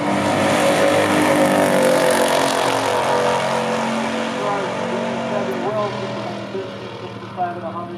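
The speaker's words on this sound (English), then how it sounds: "In the second round, the Buick driver gave her a little too much juice off the line and had some wheel spin." A 1972 Chevy and a 1972 Buick GS455 Stage 1 drag racing, engines roaring loudly and steadily at full throttle, gradually fading as the cars pull away, with voices over the noise.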